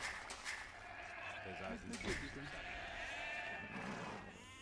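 Sheep bleating in the Age of Empires video game, a couple of short wavering bleats over game ambience while someone talks over them.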